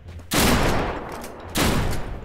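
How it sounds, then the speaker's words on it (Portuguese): Gunfire in the survival shooter video game Deadside comes as two loud, sustained bursts, each lasting about a second and separated by a short gap, with no talking. "eu tenho que ver de onde que veio esse tiro"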